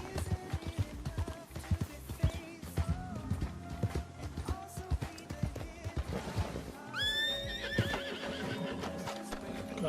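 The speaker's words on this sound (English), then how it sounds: "Calma, cavalo." A horse in the Red Dead Redemption 2 video game whinnies and snorts over busy clip-clop hoofbeats on the ground, with a sharp, high neigh near the end, all close and fairly loud.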